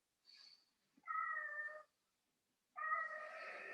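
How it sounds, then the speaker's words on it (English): A house cat meows for food, three separate meows in quick succession, the second and third long and drawn out, fairly close, with quiet pauses between them in an indoor room. "If you hear the cat, then that's what it is."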